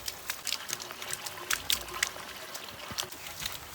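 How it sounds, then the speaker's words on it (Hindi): Rainwater pours from a 3-inch roof pipe on a Himalayan farm, a splashing, trickling stream with irregular gurgles and splats, fairly close and steady without speech. "ये 3 इंच की पाइप है और इससे भी पानी बाहर आ रहा है"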